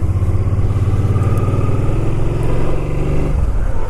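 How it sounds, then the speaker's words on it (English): An 800cc, 50 cubic inch motorcycle engine runs loud and close, giving a throbbing low rumble. It holds steady and then dips near the end as the revs shift. "It's a 50 cubic inch, which makes it a 800cc motorcycle."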